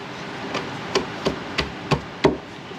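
Bare hands pound on a rusty car footwell floor panel during repair, giving six dull, evenly spaced thumps that grow slightly louder, close by with no talking.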